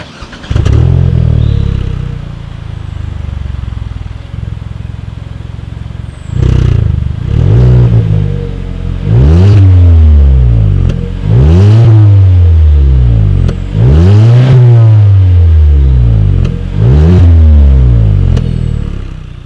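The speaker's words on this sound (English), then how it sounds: "Here is that exhaust clip." A 2019 Hyundai Veloster's exhaust rumbles at idle, then revs up sharply five times in a row, each throaty rise and fall loud and close.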